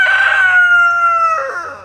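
A rooster crows once, loud and close, a long sustained call that breaks into a falling tail near the end, with no other sounds around it.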